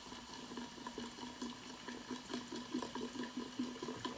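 Sprite poured from a bottle into a beverage dispenser at a Harry Potter birthday party, a steady close liquid stream gurgling and splashing for several seconds with no talk over it.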